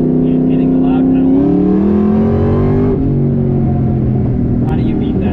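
A Whipple-supercharged Ford SVT Cobra accelerating hard through the gears, a loud close engine roar with rising revs, a shift-like drop about halfway, then a continued strong rumble.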